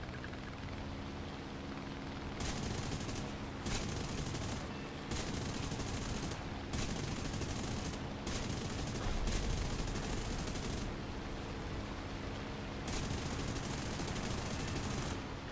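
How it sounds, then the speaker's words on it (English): Ship broadside gunfire from the War Thunder game roars as a dense, continuous rumble of shots, swelling in several loud bursts that start and stop, with no talk over it. "That's it, just broadside right in front of me."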